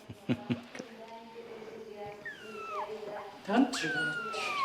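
Kittens from several litters hidden in a blanket under a table give thin, rising and falling meows, a few short cries then longer plaintive calls, mixed with soft thumps and people talking nearby.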